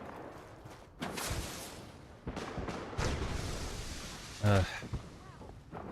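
Gunfire in a combat video game, a few sharp shots and bursts scattered over loud background noise, with one heavy close blast near the end and a voice exclaiming briefly.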